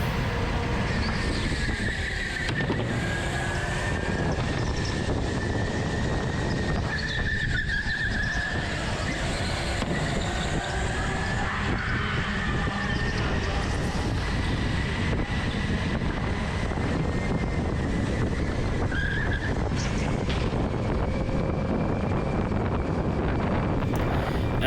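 Race cars in a racing video game roar through the last lap, a sustained engine whine rising and falling with gear shifts and occasional tire squeal, steady and loud with no talking.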